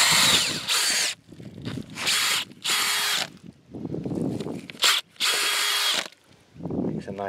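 A power drill bores holes into wet garden ground for planting, whirring in repeated loud bursts of a second or so, separated by short pauses, close by.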